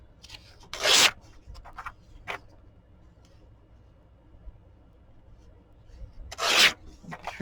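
Shears clip and rustle through the branches of a small tree outdoors, giving two louder, sharp scraping snips several seconds apart, with faint rubbing and quiet in between.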